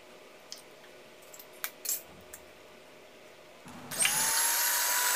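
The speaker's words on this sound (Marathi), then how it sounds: "बीटरने आपण ही अंडी छान फेटून घ्यायची आहेत।" Electric beater starts up whisking four eggs in a bowl for a butter tea-time cake, a loud, steady high whine after a few faint clinks of handling.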